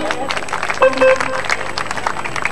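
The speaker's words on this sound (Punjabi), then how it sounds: "ਲਓ ਜੀ ਇੱਕ ਜ਼ੋਰਦਾਰ ਤਾੜੀ ਲਾ ਦਿਓ ਜਰਾ" Audience applause at a children's Punjabi cultural program in 2013, with a crowd clapping steadily over a murmur of voices, loud and close throughout.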